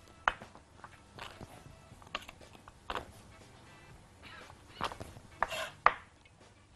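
Three or four garlic cloves are crushed with a knife on a cutting board, giving a series of sharp, irregular close knocks and crunches spaced over several seconds against a quiet kitchen background.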